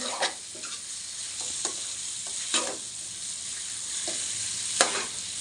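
Chicken curry with mango sizzles steadily in a pan while a utensil scrapes and stirs in short, irregular strokes, close up with no voices.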